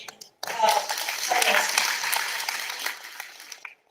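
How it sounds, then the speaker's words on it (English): Seminar audience gives the speakers a round of applause, a steady spread of soft clapping in a hall that swells and fades over a few seconds. "both the speakers deserve a big round of applause"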